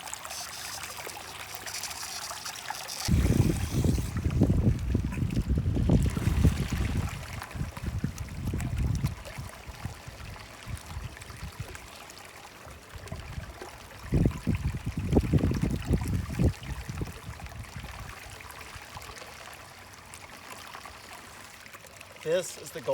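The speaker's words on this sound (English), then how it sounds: "I'm using a SEAFLO 3700 GPH bilge pump with the Goldie Box backpack dredge." A SEAFLO 3700 GPH bilge pump drives a Goldie Box backpack dredge in a gold-bearing creek, giving a loud, close rush of pouring, gurgling water that surges, eases off, then surges again.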